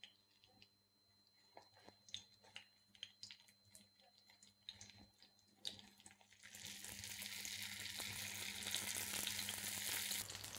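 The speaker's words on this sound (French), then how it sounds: "on les cuit tout simplement dans une poêle bien chaude" Spiced chicken samosas fry in a very hot pan, sealed side down: scattered pops and crackles at first, then a loud, steady, close sizzle takes over for the rest.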